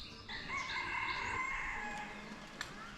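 A chicken in Ninh Binh, Vietnam, giving a short series of loud, close, throaty clucks and calls, with a brief click near the end.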